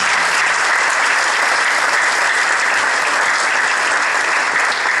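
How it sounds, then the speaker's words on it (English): Loud, close, sustained clapping from a primary school concert audience applauding the children, a thick continuous roar of hands with no talking. "Please give them a round of applause."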